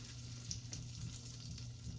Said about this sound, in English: They're gonna start sizzling.